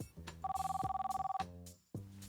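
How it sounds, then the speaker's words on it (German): A mobile phone rings with a steady electronic trill, one long buzzing ring over faint background noise, followed by a short pause and the start of another ring. "War das ein Handy?"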